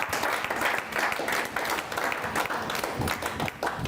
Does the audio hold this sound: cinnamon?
no